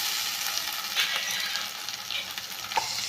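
Chana dal frying with softened onion in a pan, a constant close sizzle with occasional stirring scrapes, no talking.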